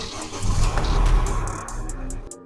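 A Nissan Navara pickup engine cranks and catches, then settles into a loud, rumbling idle close by, with ticking mechanical clicks over the running engine and no speech.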